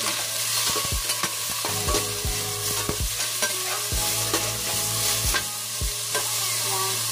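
Onion and tomato sauté in a hot pan for fish sinigang, steady close sizzling under repeated scraping and clinking stirs of a utensil against the pan, no talking.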